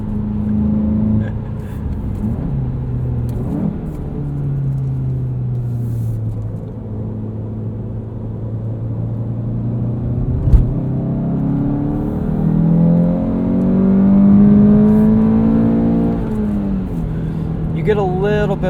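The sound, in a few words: 2017 Volkswagen GTI Sport engine revving on track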